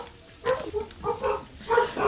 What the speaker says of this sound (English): can you hear my dogs? They're barking really loud.